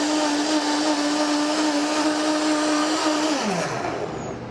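A blender purees charred tomatoes with a heavy pinch of salt, a loud steady whir holding pitch for several seconds before the motor winds down and slows at the end.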